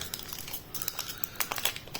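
A Pokémon booster pack's foil wrapper crinkles and crackles as it is handled and opened, with quiet, irregular rustling bursts close by.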